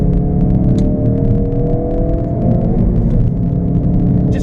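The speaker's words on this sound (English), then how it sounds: "There's a corner here, so I'll accelerate around." Ford Focus RS accelerating around a corner, heard from inside as a loud, steady engine drone with rising harmonic tones and road rumble beneath a light clatter of ticks.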